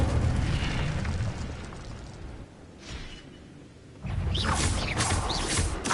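The Incendio fire spell bursts in Hogwarts Legacy, a roaring, rumbling blast that fades down and then swells again into a second loud fiery burst.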